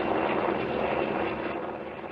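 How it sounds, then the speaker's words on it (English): A military helicopter's rotor and engine roar loudly and steadily, close overhead above a house, with no voices. "we saw a helicopter fly right over their house"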